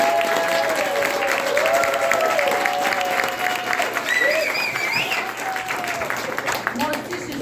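Applause from a gathering at a winter campground event in -30 C cold, a sustained crowd clapping with a few voices and whistle-like calls rising over it.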